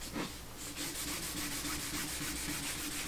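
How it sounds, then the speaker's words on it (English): Steady rubbing of a paper towel pad along waxed ship model rigging line held taut in a vise, a continuous close, even friction hiss with slight back-and-forth rhythm, no talk. "burnish it until I can feel it right through the pad. And then I know I'm melting the wax into the line"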